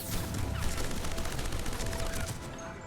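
Rapid weapon gunfire with heavy recoil from a soldier in the video game Mass Effect Legendary Edition, a dense continuous burst lasting a few seconds at steady level.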